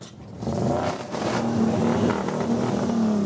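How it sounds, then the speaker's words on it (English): Homemade scrapheap-built mud runner race vehicle with two engines running, a loud steady engine drone with a sustained tonal whine and rough mechanical texture throughout, close and continuous. "With both engines now running, Chaos Captain Andy wants to show them off."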